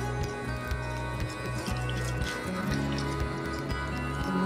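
Chicken wings being mixed by hand with a half cornstarch, half flour coating; close, soft wet squishing and sticky dabbing runs continuously with a low background hum.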